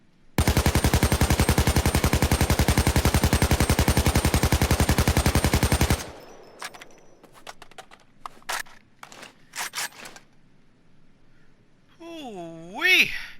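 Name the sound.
AK-74 assault rifle firing in the video game Payday 2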